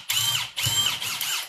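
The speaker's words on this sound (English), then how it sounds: "we're going to drill these rivets out" A power drill bores into the rivet heads on a horse trailer, three close, loud whining bursts separated by brief pauses, with no voices.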